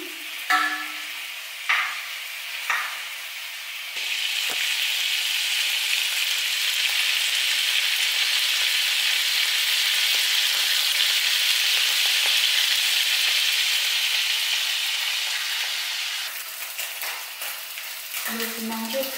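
Vegan bratwurst frying in a pan, a loud continuous sizzle holding steady for most of the stretch after a few taps and scrapes at the start, with faint background sounds near the end.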